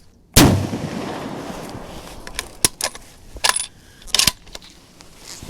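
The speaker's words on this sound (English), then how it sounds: "let's send some more rounds downrange" A restored Remington 1942 Springfield 1903 bolt-action rifle fired at an outdoor range: one loud close shot with a long decaying echo, followed by sharp metallic clicks and clatter of the bolt being worked.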